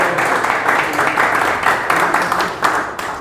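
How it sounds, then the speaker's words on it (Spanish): An audience claps steadily through a community talk about the people of Cotocollao, with dense, continuous applause close by and small swells in intensity. "Otra pausa para un aplauso a Santiago y a Alexander Valladares"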